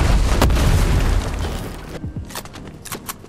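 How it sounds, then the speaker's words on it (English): Grenades go off in Fortnite, a heavy booming blast followed by a rumbling tail and a scatter of smaller pops and bursts, loud and close. "Grenades."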